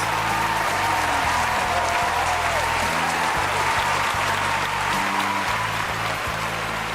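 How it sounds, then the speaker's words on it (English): An audience at a livestream event bursts into sustained applause, a dense, steady clatter of clapping that fills the whole stretch, with a few faint voices under it. "Give yourselves a round of applause."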